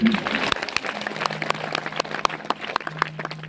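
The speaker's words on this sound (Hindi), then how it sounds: "बजाओ ताली" Scattered audience clapping at a village Bhagwat Katha religious gathering, brief sharp claps spread over a few seconds, with a faint voice and a sustained tone underneath.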